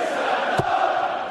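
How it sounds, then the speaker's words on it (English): Darts crowd at a world championship match in a packed hall, a steady broad roar of cheering and chatter throughout with one sharp burst in the middle. "This crowd are enjoying themselves."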